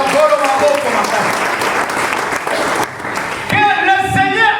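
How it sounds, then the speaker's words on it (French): Church congregation clapping for the Lord during a French and Lingala worship service, dense steady applause filling the room with voices and cheers mixed in, continuing throughout. "Est-ce que tu peux applaudir pour le Seigneur?"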